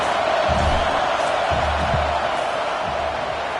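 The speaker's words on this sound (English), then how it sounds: "This crowd trying to do its part to get inside the kicker's head" Stadium crowd at a Michigan at Wisconsin college football game roaring to rattle the kicker before a fourth-down field goal, a steady broad wash of noise with low rumbling surges.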